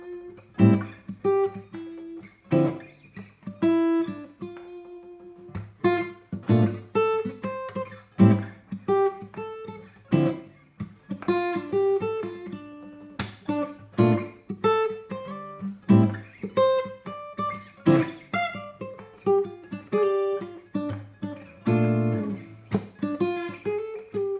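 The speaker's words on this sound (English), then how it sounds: "we're gonna play those chords rhythmically, and we're gonna add also single notes" Fingerpicked guitar plays chords rhythmically mixed with single melody notes, giving clear plucked attacks in a loose, steady rhythm with ringing sustain and no voice throughout.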